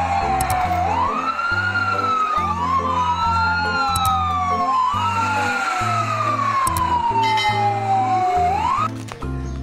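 A red toy fire engine sounds a looping electronic siren, rising and falling wails repeating loudly and steadily, with a thumping rhythmic beat underneath.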